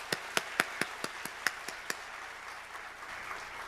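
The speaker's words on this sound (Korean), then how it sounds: "우리 영광의 박수를 하나님께 올려드리겠습니다" Church congregation claps in unison at an early-morning revival service: about ten sharp, evenly spaced claps ring out close and clear, then fade into a softer, scattered patter of hands.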